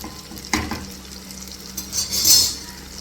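A spoon stirs brinjal kuzhambu in a pan, with a few scraping knocks against the metal and a gentle sizzle underneath, close and fairly quiet, with no talking.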